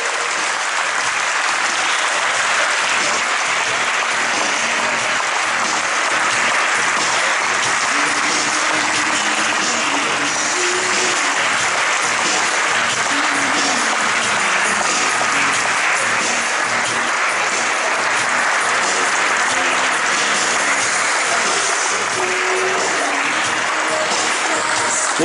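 A large audience applauds continuously at a handball team's preseason presentation, a loud sustained wash of clapping from a dense crowd with no break.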